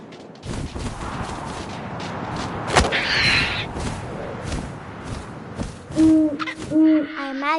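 An owl hoots in the What Remains of Edith Finch video game, a few clear repeated hoots near the end over a windy, rustling outdoor ambience, with a sharp knock partway through.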